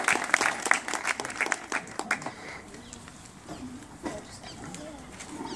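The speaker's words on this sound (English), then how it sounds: "round of applause." Audience applauding to welcome a guitar performer before she plays; a loud burst of clapping close by tapers into scattered claps and murmuring voices within a few seconds.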